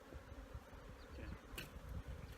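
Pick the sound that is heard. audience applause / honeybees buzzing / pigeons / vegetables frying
honeybees buzzing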